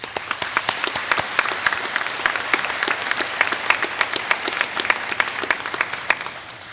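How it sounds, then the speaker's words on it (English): An adult education graduation audience applauds its supporters with brisk, dense clapping from many hands, steady and lively for nearly seven seconds. "let's give them a round of applause"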